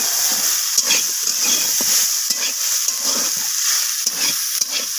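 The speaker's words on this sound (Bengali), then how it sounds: "এখানে বেগুনটা লালচে করে ভাজা হয়ে গেছে" Eggplant sizzles steadily in hot oil, a bright continuous frying hiss with soft stirring scrapes recurring throughout, close and fairly loud, no talking.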